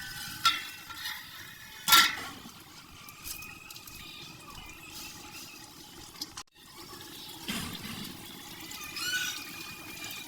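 Chicken and peas being stirred in a large cooking pot, a steady wet bubbling and scraping with a few louder clinks of the spoon against the metal and no voices.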